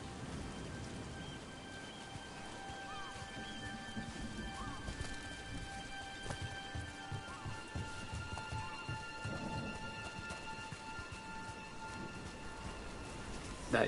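Steady rain falls in the video game Dragon Age: The Veilguard, a dense continuous hiss with horse hooves clopping and occasional distant rumbles, faint and ambient throughout.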